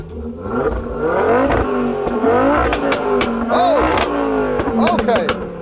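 An Audi RS3 saloon tuned to stage 3 with 770 bhp revs loudly and close by, its engine note climbing and falling through several sharp blips while people talk over it.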